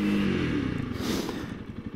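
A 2022 Honda CRF300L motorcycle engine drones and revs while riding on the road, with a low throbbing exhaust note that drops into a quicker, uneven pulse, fairly close and alone.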